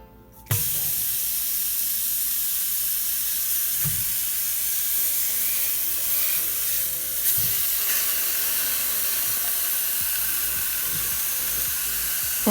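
Steak seasoned with salt and pepper searing in a scalding hot pan, a steady loud sizzle and hiss running continuously and close, with a few soft knocks and no talking.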